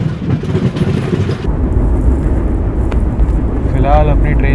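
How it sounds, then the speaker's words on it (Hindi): The 20806 Andhra Pradesh SF Express rumbles loudly across a bridge over the Godavari river, a heavy continuous roar with wheel noise, with a voice talking over it near the end. "फिलहाल अपनी ट्रेन जो है गोदावरी नदी को पार कर रही है"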